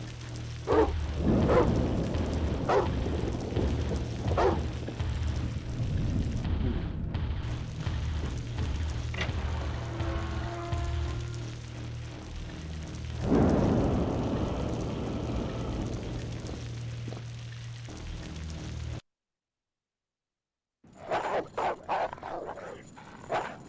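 Dogs bark repeatedly over steady rain and ambient game noise in the survival-horror game Alone in the Dark: The New Nightmare, loud and persistent before a sudden cut to silence and a brief return.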